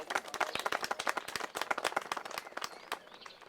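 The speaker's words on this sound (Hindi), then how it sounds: "एक बार डीएम साहिबा का भी तालियों से स्वागत कीजिए।" Applause from an audience at an Indian stage event welcoming a district magistrate, a dense run of sharp, close handclaps that rises and falls without a break across the whole stretch.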